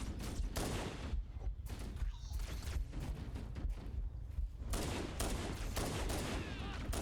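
Dense, continuous gunfire and explosions from Halo: Combat Evolved, a steady roar of overlapping rapid shots and blasts, loud and unbroken throughout.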